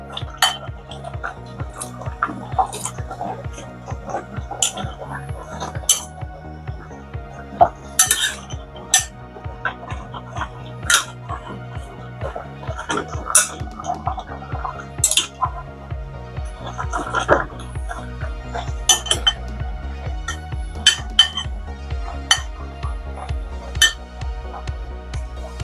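Okra being added and stirred into a pot of Nigerian okra soup, repeated clinks and scrapes of a metal spoon against the pot in an irregular rhythm, close by, with occasional faint speech in the background.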